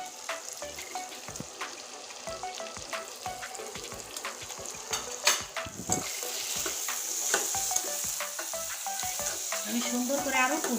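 Spices being stirred and fried in oil with potato and pointed gourd, a steady sizzle broken by frequent scraping strokes of a spatula, close and continuous with no talking.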